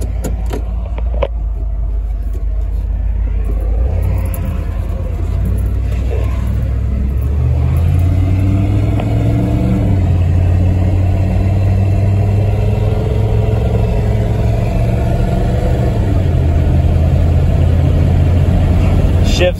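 A 1997 Ford F-250 regular cab 4x4 pickup truck driving with the windows down, its engine rumbling low and rising in pitch as it accelerates through gears, loud and steady throughout.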